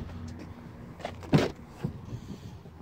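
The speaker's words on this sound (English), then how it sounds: "Power windows, power locks." Power window motor of a 2017 Ford F-250 6.7L diesel XLT pickup, a short whirring hum at close range, followed by a couple of faint clicks in a quiet cab.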